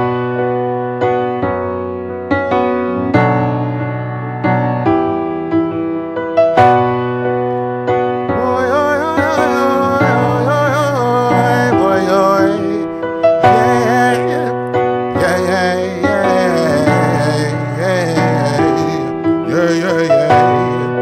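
Keyboard song playback from Toontrack EZ Keys software slowed to half tempo, steady piano chords and notes with layered accompaniment, continuous and fairly loud throughout, with no talking.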